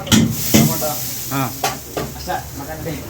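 Spices tempering in a hot pan at a Davangere butter dosa eatery, a crackling sizzle with stirring clatter, heard under nearby voices talking.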